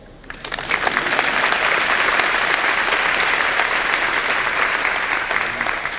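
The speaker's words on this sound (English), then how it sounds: "We can applaud." Sustained applause from a large audience at a college commencement ceremony, a dense, steady wash of clapping that swells in quickly and holds loud for several seconds.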